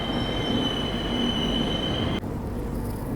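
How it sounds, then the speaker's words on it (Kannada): The Hubli–Hyderabad Deccan Nampally Express moves through Wadi Junction with a loud steady rumble and a high wheel squeal that cuts off abruptly, leaving lower rolling noise. "ಹುಬ್ಳಿ ಹೈದರಾಬಾದ್ ಡೆಕ್ಕನ್ ನ್ಯಾಂಪಲ್ಲಿ ಎಕ್ಸ್ಪ್ರೆಸ್ ಇಲ್ಲೇ ಬಂದಿರತ್ತೆ ನೋಡ್ರಿ."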